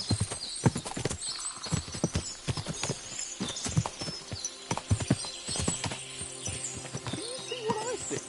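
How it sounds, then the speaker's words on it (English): Many horses' hooves clip-clop steadily together at a trot in the video game Kingdom Come: Deliverance II, with occasional whinnies rising over the busy hoofbeats. "What a lot of horses!"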